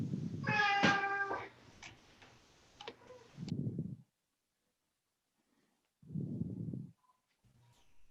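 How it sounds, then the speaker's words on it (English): Pet cat meowing once, a clear, close, drawn-out meow, followed by soft low thumps and quiet gaps. "Sounded like a cat."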